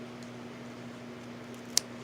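Small scissors snipping off a prayer plant leaf, one quick crisp cut near the end against a faint steady background hum.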